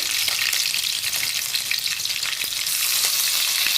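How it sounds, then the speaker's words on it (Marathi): Green chilli, ginger and garlic frying in hot oil over popped mustard seeds for Maharashtrian amti, a steady close sizzle and crackle with no voices. "आता मी त्याच्यामध्ये बारीक चिरलेली एक हिरवी मिरची थोडस आता मी यामध्ये आलं आणि लसूण खिचून टाकणार आहे"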